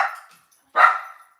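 A pet dog at home gives two loud, close barks separated by a short pause, with no other sound around them.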